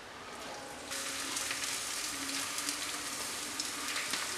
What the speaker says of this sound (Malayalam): ആ ചൂടായ എണ്ണയിലേക്ക് നമുക്കിവിടെ കട്ട് ചെയ്ത് വെച്ചിരിക്കുന്ന ഇഞ്ചി ഇട്ട് കൊടുത്തിട്ടൊന്ന് വറുത്തെടുക്കാം.